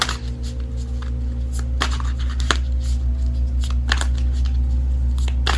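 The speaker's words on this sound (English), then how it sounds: "Let me just shuffle" Tarot cards shuffled by hand in a steady run of soft riffling flicks and snaps, close and clear over a low constant hum, with no talking.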